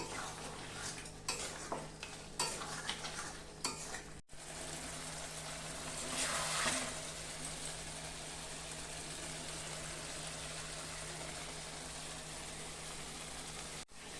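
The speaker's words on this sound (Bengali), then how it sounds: "আমি ভালো করে এটাকে এখন কষিয়ে নিব" Mutton bhuna being stir-fried in a pan with a roasted spice mix: a steady close sizzle with scraping and clinking of the spoon against the pan, busier at the start and then a continuous hiss.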